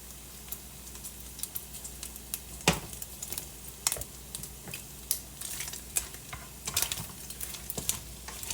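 Breakfast sausage frying in its own grease in a pan, a steady soft sizzle under irregular stirring clicks and scrapes, close and moderately quiet with no talking.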